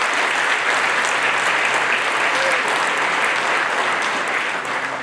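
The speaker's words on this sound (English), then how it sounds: "So one more round of applause for all of them" A full room applauds scholarship honorees at a high school scholarship night, with steady, dense clapping holding strong throughout and easing slightly at the end.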